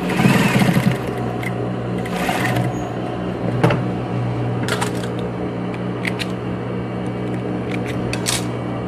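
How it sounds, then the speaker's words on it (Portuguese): A sewing machine running a short safety stitch on a strap for a car organizer, with a close, rapid mechanical whirring burst followed by intermittent clicks and handling of fabric, no talk. "E aí eu vou passar uma costurinha de segurança aqui só para segurar"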